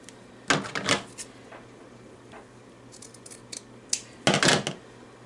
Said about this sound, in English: we'll get rid of excess bulk by trimming off the lace